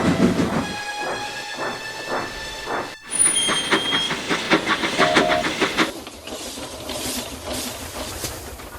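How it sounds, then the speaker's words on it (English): A steam train chuffs into motion with rhythmic puffs and hissing steam, the beats quickening and growing louder, with a brief whistle and clanking wheels. "Thomas shunted Toad behind Oliver's train, and they set off into the night."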